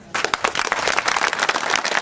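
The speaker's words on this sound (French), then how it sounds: "j'aimerais bien que vous vous applaudissiez, Anifa, de toute votre force." An audience at a storytelling night claps steadily and densely for about two seconds, loud and close, with no voices over it.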